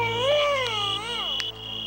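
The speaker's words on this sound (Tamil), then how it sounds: "உள்ள குழந்தை அழுற சத்தம் கேட்கு." A baby crying in the next room in a Tamil TV drama: a loud, wavering wail that rises and falls in pitch, with short breaks, over a steady low hum.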